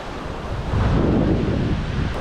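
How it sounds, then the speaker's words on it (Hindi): Sea waves wash close by at the INS Khukri Memorial in Diu, a steady broadband surf roar that swells slightly midway, mixed with wind buffeting the microphone, with no voices. "समुद्र जो एकदम पास में है"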